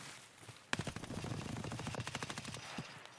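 Bursts of automatic gunfire from Escape From Tarkov, a sharp opening shot followed by rapid rattling volleys that run steadily to the end, loud and close.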